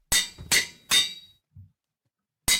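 Minecraft anvil in use: four sharp, ringing metallic clanks, three in quick succession and one after a pause, with a faint soft thud between them.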